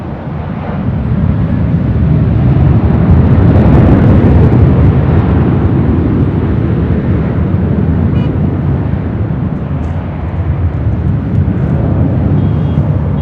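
A Southwest airliner takes off from runway 24 Left at LAX, its engines producing a loud, continuous low roar that swells slightly and holds steady throughout, with no voices.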